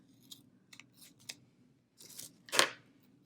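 Scissors snip through a paper planner sticker in a few short, separate crisp cuts, ending with one louder, longer slice, close up with quiet pauses between.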